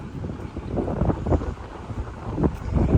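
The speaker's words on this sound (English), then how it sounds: "It is so windy." Strong wind gusts buffet the microphone ahead of a storm, a low, rumbling roar that surges and eases in uneven pulses, loud and close with no clear voices.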